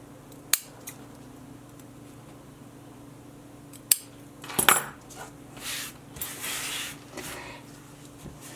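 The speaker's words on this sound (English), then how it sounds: "you can cut your glitter cord now" Scissors snipping glitter cord, a couple of crisp isolated snips at close range followed by a cluster of small clicks and rustling handling sounds in a quiet room.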